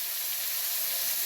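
Spices sizzle steadily in hot oil for a chickpea curry, a close, constant bright hiss with no voices.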